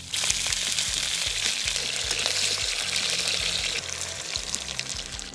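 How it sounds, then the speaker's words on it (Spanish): Beef searing in olive oil in a pot gives a loud, steady, close sizzle that crackles throughout, with music playing underneath. "En una olla con aceite de oliva sellamos la carne hasta que esté bien dorada"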